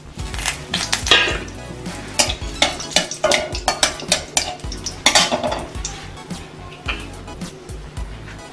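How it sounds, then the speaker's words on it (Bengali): Three cardamom pods and three cloves crackle and sizzle in hot oil for an egg curry, with a spoon scraping and clinking against the pan in irregular bursts, close and fairly loud. "একটু তিনটে এলাচ আর তিনটে লবঙ্গ দিচ্ছি।"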